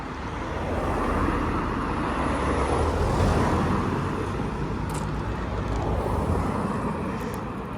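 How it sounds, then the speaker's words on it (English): Constant traffic on a busy main road, a steady broadband roar of passing vehicles that swells and eases slightly without pause, moderately loud and heard alone. "Traffic is pretty non-stop."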